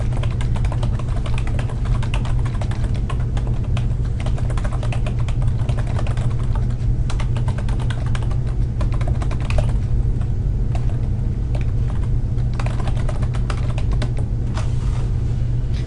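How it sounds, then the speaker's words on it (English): Steady clatter of keys on a computer keyboard as text is typed, continuous and close, over a constant low hum in the background. "We're actually just going to type the word of and press the space bar."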